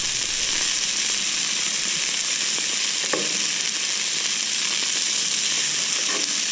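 Sausages sizzle and fry steadily on a Camp Chef FTG600 flat-top griddle, a loud, continuous crackling hiss with a few brief pops and spatters, with no talking.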